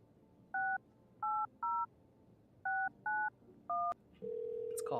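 Touch-tone dialing in the video game No, I'm Not Human: six crisp two-tone beeps in uneven pairs and singles, then a steady ringing tone begins, clean and close with no talking.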